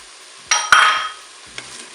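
Peas and corn stirred into Cantonese fried rice in a Cookeo cooker: two close scraping, rustling stirs with a faint sizzle, followed by a softer clink near the end, no voices.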